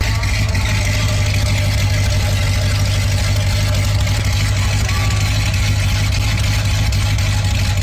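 A Corvette ZR1 engine runs steadily, played back from a recording, with a constant low drone throughout and talk over it.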